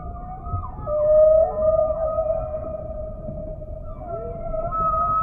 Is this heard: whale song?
yes